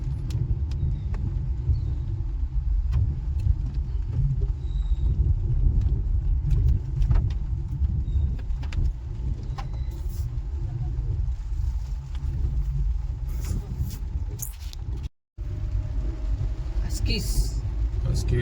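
A car drives along Necklace Road in Hyderabad, its steady low engine and road rumble heard from inside the cabin, continuous and fairly loud, with a brief dropout near the end.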